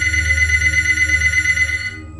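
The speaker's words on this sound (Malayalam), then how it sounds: "കാലിഫോർണിയയിലെ വലേജോ പോലീസ് സ്റ്റേഷനിലേക്ക് ഒരു ഫോൺ കോൾ വരുന്നു." A telephone rings at a police station in Vallejo, California, in 1969: a bright, continuous electronic ringing tone that holds for about two seconds, then cuts off abruptly.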